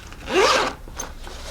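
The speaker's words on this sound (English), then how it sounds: "I can close my zipper" A zipper is drawn closed on the sewn fabric interior of a handmade sewing project: one quick rasping zip pulled close up, followed by a faint tick and quiet rustling.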